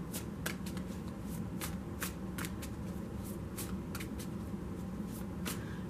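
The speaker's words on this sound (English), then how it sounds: "That's why I shuffle on camera" Tarot cards are shuffled by hand at close range in a quiet room, with a steady run of crisp riffling clicks and no voices.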